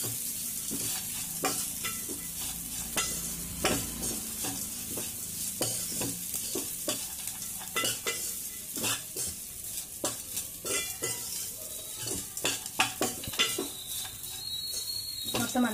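Flattened rice (poha) pulihora is stirred in a pan with its tempering, a spoon scraping and tossing in steady repeated strokes over a soft sizzle, close and fairly quiet throughout.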